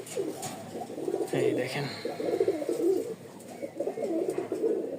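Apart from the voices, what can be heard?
pigeons cooing, red pair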